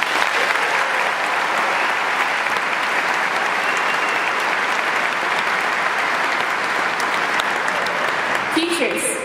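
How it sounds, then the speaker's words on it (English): Loud, sustained applause from a graduation audience honoring parents and families, dense clapping steady throughout with crowd noise and a few voices mixed in near the end. "Let's give a round of applause for our parents and families."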